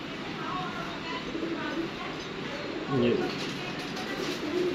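Teddy breed pigeons coo in a low, murmuring burst near the middle, set against a steady background of loft noise with someone talking nearby.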